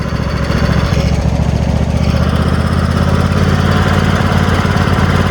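A racing lawn mower engine drives along a main road, its loud, buzzy drone steady and close with a throbbing low pulse and a slight dip in pitch near the start; no speech.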